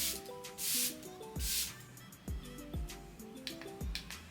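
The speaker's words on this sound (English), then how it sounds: "we're gonna go back in with another round of setting spray from Charlotte Tilbury." Charlotte Tilbury setting spray is misted close by in two quick hissing spritzes, followed by light clicks and soft handling sounds.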